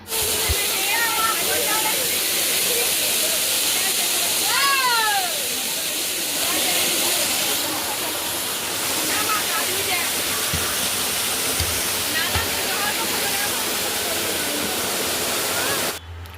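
A waterfall roars as a loud, steady, broadband hiss of falling and splashing water close by, with faint voices heard under the rush at times.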